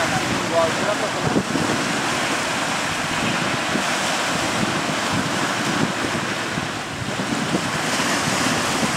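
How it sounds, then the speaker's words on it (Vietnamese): Big sea waves and strong wind batter a fishing boat heading out to sea, a dense, continuous roar of spray and gusts up close, with faint voices mixed under the noise. "Trời ơi, coi sóng nó vượt sóng nè."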